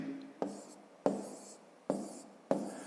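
Pen or pencil writing numbers by hand on paper during a fifth-grade math exercise, four short sharp taps each followed by brief scratching strokes, close and clear.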